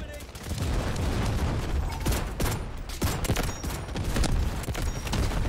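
Rapid volleys of gunfire from a Delta Force video game battle, including magnum shots, crack close and loud in dense bursts with little pause.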